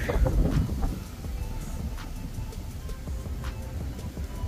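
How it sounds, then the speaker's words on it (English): Gusty wind buffeting a microphone outdoors near parked trucks, strongest at the start and then settling into a continuous rough rumble. "It's pretty windy."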